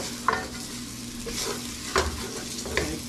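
Ginger and garlic fry with onion and thyme in a pot, a steady close sizzle broken by three sharp scrapes and clinks of a spoon stirring against the metal.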